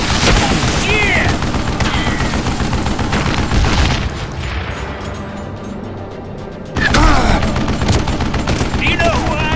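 Heavy, sustained gunfire from the western shooter game GUN, rapid overlapping shots with a brief lull mid-way before the barrage resumes loudly, voices shouting over it.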